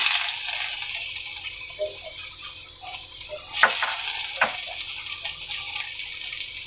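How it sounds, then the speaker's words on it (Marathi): Garlic dropped into hot oil in a pan for egg curry masala gives a faint, steady sizzle, with a couple of sharper clatters partway through. "यात लसूण टाकूया. तेल तापलंय."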